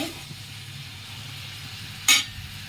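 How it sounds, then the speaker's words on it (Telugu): Onions fry for curry in a pan with a steady, close sizzle throughout, broken by one brief clatter of a utensil stirring near the end. "అలా ఫ్రై చేసుకుంటున్నాను కొంచెం రెడ్గా అయిన వరకు ఫ్రై చేసుకోవాలి"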